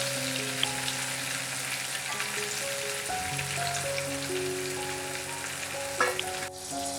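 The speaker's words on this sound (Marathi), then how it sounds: "आता मी याला परत डबल फ्राय करून घेत आहे" Baby corn double-fries in hot oil for chilli baby corn, a dense, even crackling sizzle held steadily throughout with a brief clatter near the end.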